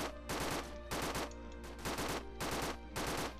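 Automatic gunfire from zeppelin-mounted guns in a Roblox Zeppelin Battle dogfight, five loud bursts of rapid shots with short gaps between them over a steady low engine drone.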